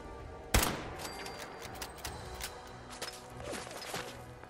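Gunfire in Fallout 4 opens with one loud close shot, then a string of fainter, more distant cracks and thuds spread unevenly across the next few seconds, with no talking.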